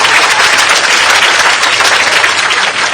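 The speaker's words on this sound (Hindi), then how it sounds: "ताली बजा के इन बच्चों का एक बार स्वागत करें।" A large audience at a youth vaccination campaign event in Bhopal claps to welcome children, a loud, dense, continuous wash of applause filling the whole moment.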